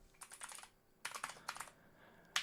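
Bursts of typing on a computer keyboard, quick clusters of soft key clicks separated by short pauses, close and fairly quiet.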